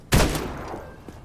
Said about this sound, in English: the gunshots scare off the other rats